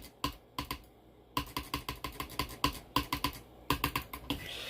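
Rapid keyboard and mouse clicking during fast computer gameplay: quick bursts of sharp, close clicks with short pauses between runs, no voices.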